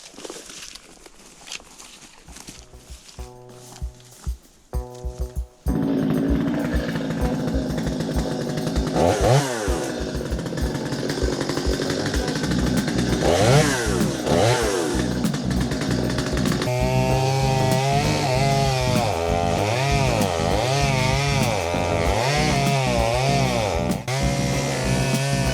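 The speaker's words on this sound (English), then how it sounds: "A chainsawing I shall do." Chainsaw cutting two dead trees for firewood, roughly 350 mm through: a few idle revs and starts, then a loud, sustained close engine roar that rises and falls in pitch as the chain bites into the wood, with no talking.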